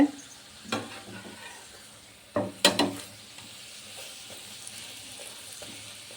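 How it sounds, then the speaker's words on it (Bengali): Sugar paratha frying in oil makes a soft, quiet sizzle, broken by a few clattering utensil knocks and scrapes close by. "এইভাবে আমি সবগুলো ভেজে নেব।"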